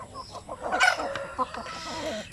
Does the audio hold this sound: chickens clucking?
yes